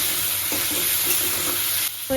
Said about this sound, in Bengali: একটু ভাজা ভাজা হয়ে গেছে, এবার আদার পেস্টটা দিয়ে দেবো।